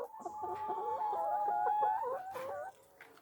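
Farm chickens cluck steadily while eating, with a dense run of close, overlapping clucks and trills lasting a few seconds before fading to quiet.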